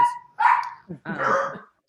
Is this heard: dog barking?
yes